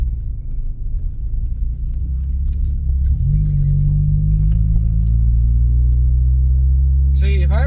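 An old car rumbling along on the road, a deep continuous engine drone that lifts in pitch partway through as it accelerates, heard from the cabin, with a short voice at the very end.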